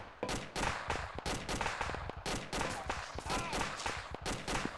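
Gunshots in a military video game, a steady series of sharp, loud individual cracks and short bursts repeating roughly every half second with rumbling echoes between them.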